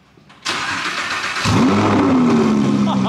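Audi R8 engine fitted with a new aftermarket exhaust starts with a loud bark, then settles into a deep, steady idle rumble, close and sustained.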